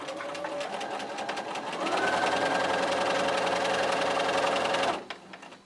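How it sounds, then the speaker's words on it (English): A domestic sewing machine runs a quarter-inch seam down the side of a jelly roll quilt strip, a close, continuous motor whir with rapid needle clatter that speeds up after a slower start and then stops abruptly. "I'm going to sew down this right side with a 1/4 inch seam."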